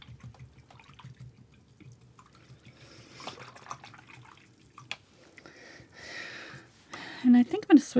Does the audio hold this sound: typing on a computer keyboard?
no